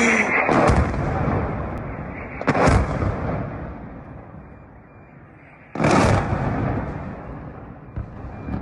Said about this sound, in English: here we actually have a video of the 3 missiles impacting